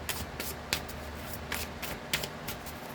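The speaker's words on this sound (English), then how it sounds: "Okay, I'm gonna give this a good shuffle" A deck of animal tarot cards is shuffled in several quick riffling bursts, close and fairly soft, with short pauses between them and no voices.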